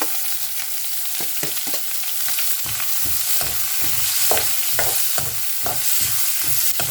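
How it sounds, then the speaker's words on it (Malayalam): Sliced onions sizzle with browned coconut pieces in a hot pan for a dried shrimp roast, a steady loud frying hiss broken by repeated scraping stirs, with no talking. "സവാള കുറച്ച് നേരം നമുക്കൊന്ന് വഴറ്റി കൊടുക്കാം."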